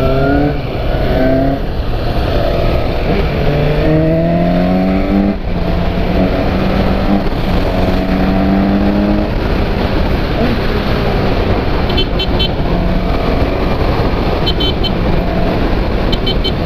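A Suzuki GSX S 750 motorcycle engine runs loud and close as it rides through heavy São Paulo traffic, rising and falling steadily through gears under strong wind rush, with brief beeps near the end.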